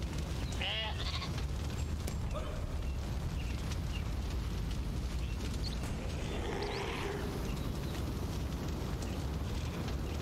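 Sheep bleat in the video game Northgard, a couple of short wavering bleats rising over a steady, dense bed of game ambience and rumble, fairly faint within the mix.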